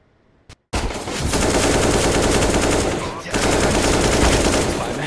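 Glock pistol fire in a competitive video game match, AWG Showdown Revel vs Frikitona. After a short quiet lead-in, dense rapid shots rattle loudly in two long bursts separated by a brief gap, with a commentator's voice faintly underneath.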